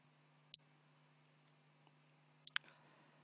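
Sharp computer mouse clicks in a quiet room: one isolated click, then a quick double click about two seconds later, close and crisp over a faint electrical hum.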